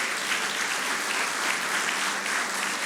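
A large church congregation applauds steadily, dense continuous clapping that stays even in loudness throughout, with no voices standing out.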